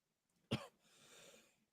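A single sharp cough bursts out close to the microphone, followed by a soft breathy exhale and faint room noise.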